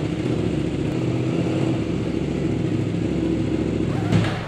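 A big bike motorcycle engine idles and rumbles steadily in first gear nearby, with a brief rev swelling near the end.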